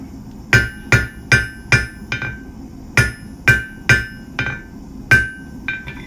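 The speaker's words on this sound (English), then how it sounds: "the next step is going to be hitting down on those corners that we just made, turning this into an octagonalized taper" A hammer strikes the corners of a hot steel taper on an anvil while forging a J hook: about fourteen sharp ringing blows, close and loud, falling in quick irregular runs with brief pauses between.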